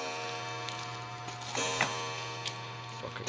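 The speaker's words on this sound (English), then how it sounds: "Fucking clock." A clock ticking steadily with faint, evenly spaced clicks over a constant electrical hum, quiet and close in an otherwise still room.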